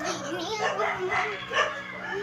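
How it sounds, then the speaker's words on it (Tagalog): A dog barks repeatedly close by in a rural yard, the barks layered with voices talking over them. "Ingay ng aso ah"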